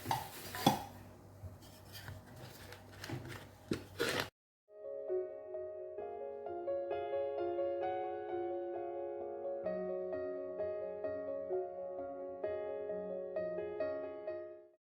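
Pancake batter is mixed in a bowl, with a few seconds of clinking, scraping utensil sounds up close before the sound gives way to music.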